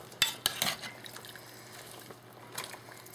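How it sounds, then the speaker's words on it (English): Green beans being stirred with seasonings including cayenne pepper, heard as a few quick clinks and scrapes of a utensil against a pot early on, then quieter stirring. "Give it a little mix."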